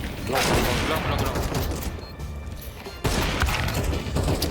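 Rapid bursts of gunfire in the video game CS2 crackle and pop in quick succession, pausing briefly before another loud volley erupts.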